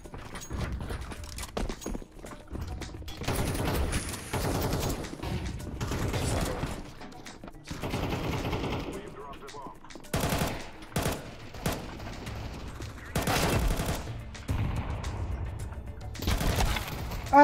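Rapid bursts of Counter-Strike 2 gunfire, sharp repeated cracks in clusters with brief gaps, mixed with mechanical clicks and game effects.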